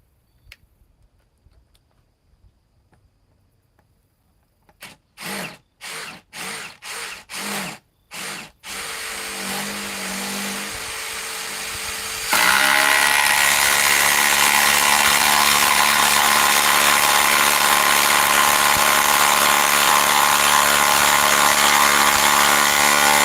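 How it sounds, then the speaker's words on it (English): A Ryobi power tool starts with a series of short bursts, then runs continuously at high speed with a loud, steady whine that holds for about ten seconds. "Now let's go and run the Ryobi."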